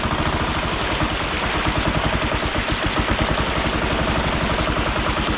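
Diesel engine of a karakat all-terrain vehicle with a cargo cabin being ferried across water, a loud, steady low rumbling drone with rapid regular pulsing throughout.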